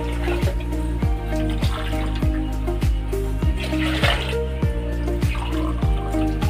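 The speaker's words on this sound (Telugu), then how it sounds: "ఇప్పుడు వాటర్ వేసుకుంటున్నానండి" Water pours and splashes into a pot of moong dal, with a steady sloshing stream and repeated knocking sounds in a regular rhythm underneath.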